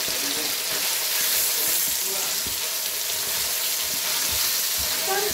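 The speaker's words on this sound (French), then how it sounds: "dans votre poêle bien chaude, vous les faites revenir" Food fries in a hot pan for a pasta alla Norma, a steady broadband sizzle running throughout with occasional soft stirring taps, close and fairly loud with no talking.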